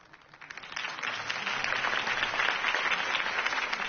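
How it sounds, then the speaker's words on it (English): Applause from a crowd after a campaign speech in the Batman Telltale video game, rising quickly from a faint start into a steady, full wash of clapping that lasts throughout. "If only Mr. Wayne, my campaign's largest backer, could have heard that applause"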